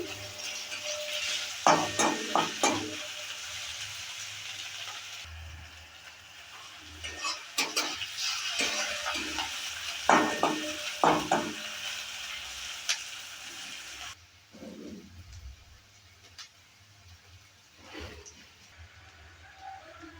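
Chopped garlic and green chilies fry for a pumpkin mash while a spatula stirs and scrapes the pan in repeated bursts of knocks and rattles over a background sizzle, quieter toward the end, with no talking.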